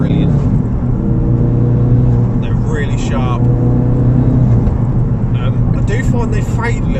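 A 2016-era Ford Focus RS Mk3 with a 2.3-litre EcoBoost engine and a 375 hp tune drives with a steady, loud engine drone up close inside the cabin, with someone talking over the top throughout.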